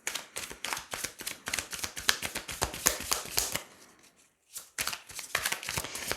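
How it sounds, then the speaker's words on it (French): Tarot cards being shuffled in a steady run of crisp riffling flicks, close and fairly loud, with a brief pause before the shuffling picks up again. "Allez, on va tirer 3 cartes."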